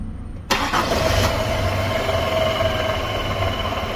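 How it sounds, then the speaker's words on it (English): Car engine cranks and fires with a misfire on the number 2 cylinder, a sudden catch after a short quiet lead-in, then a steady, rough idle running loud and close. "We're going to go ahead and start the engine."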